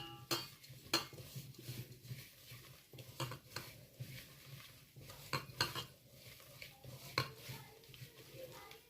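Seasoned ingredients with salt being stirred and mixed in a pot or bowl for a pickle recipe, giving faint, repeated scraping and clinking of a spoon against the vessel in an irregular rhythm, with no talk.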